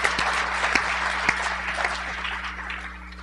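Applause from a crowd at a political conference plenary, a moderate, slightly distant patter of many hands with a steady electrical hum beneath it, thinning toward the end.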